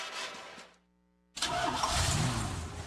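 A car engine cranks and catches, breaking a brief quiet with a sudden loud start and then settling into a strong, steady idle close by, heard in a State Farm radio ad.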